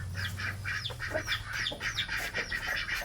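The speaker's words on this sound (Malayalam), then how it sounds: "ആ താറാവ് ഗുഡാണ്" A duck quacks repeatedly in short nasal calls at a moderate distance over a steady low background hum.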